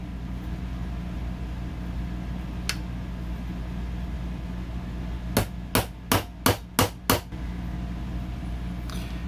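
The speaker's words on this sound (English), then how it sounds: "we're going to need a 1/8 inch roll pin punch and a hammer" A hammer strikes a 1/8 inch roll pin punch on an HK VP9 pistol, with one early tap and then six evenly spaced sharp metallic blows, close and clear over a steady background hum.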